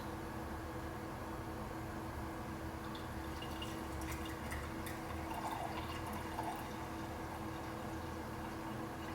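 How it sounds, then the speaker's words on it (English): Freshly made celery juice, a little over 24 ounces, pours steadily into a glass with a continuous liquid splashing and trickling that lasts several seconds, close and fairly loud, with no talk. "So let's pour this in the glass."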